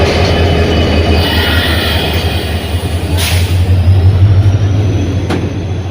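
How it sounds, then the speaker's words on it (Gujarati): A train arrives at Aranej station in Gujarat, a loud, close rumble of wheels and cars rolling past with a low steady drone, a brief high squeal, and a sharp metallic clank near the end. "ટ્રેન આવી જઈ છે આપણી મિત્રો."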